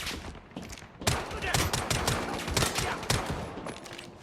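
Pistol gunfire in the looter shooter game Lost Light, a quick run of sharp shots cracking out one after another at close range, loud and dense over a busy game background.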